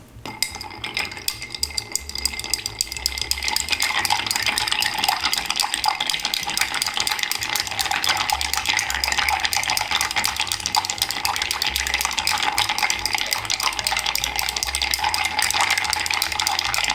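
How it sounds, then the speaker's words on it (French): A Buñueloni cocktail of Campari, vermouth and gin being stirred: a continuous, brisk rattle of close clinks that runs steadily without pause. "Puis évidemment, on mélange le tout."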